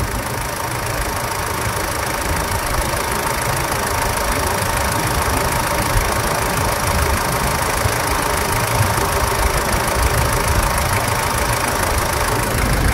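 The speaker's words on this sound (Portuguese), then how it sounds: "Aqui temos um motor bom." A healthy diesel engine idles with a steady, dense, slightly knocking clatter, close and continuous with no talking.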